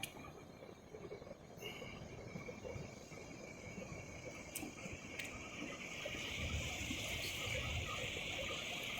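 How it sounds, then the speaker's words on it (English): Surf at Rest Bay beach, with waves dumping and peeling, gives a faint, steady wash of breaking water that builds slightly toward the end, with light wind and distant sounds above it. "So some of the waves are dumping out like that, but you got other ones that are just peeling off a treat."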